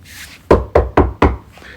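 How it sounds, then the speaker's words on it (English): Four firm knocks on a wooden door in a steady, evenly spaced rhythm, loud and close, with quiet room tone before and after. "Knock, knock."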